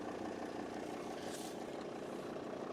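A 2014 Volvo XC90 D5 AWD with a 2.4 diesel engine idles cold, giving an even, continuous low rumble at a modest level with no other sounds.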